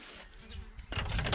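Bees buzz loudly and close by on a VW T5 van roof, a dense droning hum that swells sharply near the end as more join in.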